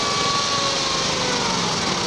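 A Case 222 or Bolens GTX16 garden tractor in a Class 5 stoneboat pull at a county fair roars steadily at high revs, loud and close, with a constant engine drone throughout.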